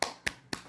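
Three sharp hand claps, evenly spaced about a quarter second apart, close and fairly quiet, made during play with a toddler's indoor basketball hoop.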